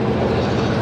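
A train rumbles past close to a high-rise apartment building, a brief, dense, steady roar of wheels and engine without pauses.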